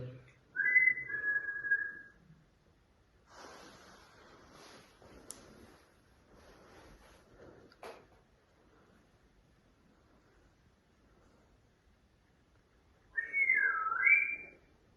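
A few bright whistled notes at the start and again near the end, separated by quiet stretches with faint rustling and small clicks.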